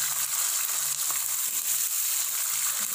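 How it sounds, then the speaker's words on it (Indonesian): Blended ground spice paste for an Acehnese green eggplant and long bean dish sizzles steadily in a hot pan, a close, continuous hiss and crackle with no voices over it. "Ini bumbunya kita tumis sebentar ya teman-teman."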